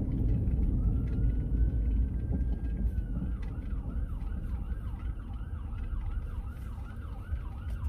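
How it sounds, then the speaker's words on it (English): A fire truck siren wails from a distance over the low rumble of a car's engine and road noise, first as a long steady tone, then as a rapid repeating yelp. "Oh, look, it's a fire truck."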